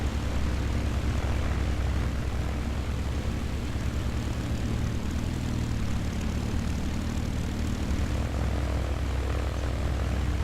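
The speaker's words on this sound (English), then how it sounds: "As you can hear, the Mustang silently warming up right now." A P-51D Mustang's piston engine warms up in the A2A flight simulator game, with a steady, loud propeller drone and a deep low rumble that runs unbroken and alone for the whole stretch.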